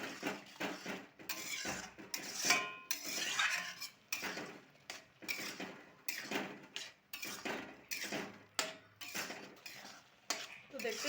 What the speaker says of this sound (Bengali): এবার এইটা দিয়ে খুব ভালো করে এটা কষাতে থাকবো